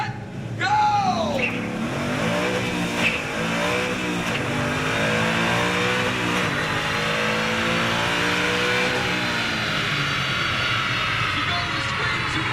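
A Ford Mustang Boss 302 running on a chassis dyno at an auto show, its engine roaring loud and rising steadily through the gears to a high-rpm wail, with crowd noise and voices underneath.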